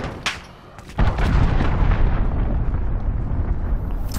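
Cruise missile explosion in Call of Duty Modern Warfare: a small pop, then a loud, deep blast erupts and rolls on as a sustained rumbling roar, with no one talking.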